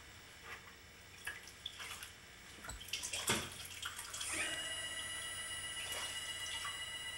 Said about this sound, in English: uses a wet sponge to press out the air from beneath the bat